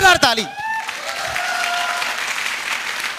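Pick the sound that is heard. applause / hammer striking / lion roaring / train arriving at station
applause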